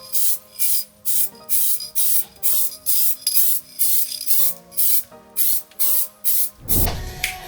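Short hissing bursts from a spray gun laying primer onto parts for a Himalayan 450 rally bike build in a paint booth, repeated in a steady on-off rhythm with a faint tonal hum behind, ending in a louder low rumble.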